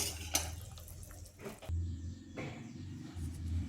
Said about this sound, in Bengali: নামিয়েই ছাঁকনির সাহায্যে জলটা ঝরিয়ে রাখছি।